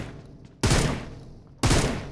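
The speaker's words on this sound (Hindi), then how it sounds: "गन साउंड तो बहुत अच्छा आ रहा है" Two loud gunshots ring out about a second apart in a mobile shooter game, each a sharp blast with a brief decaying tail, heard close and without talk.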